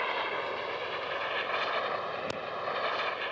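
A jump plane's aircraft engine drones steadily in flight over the English Channel toward Dover, a loud continuous propeller hum with wind noise and one brief sharp click.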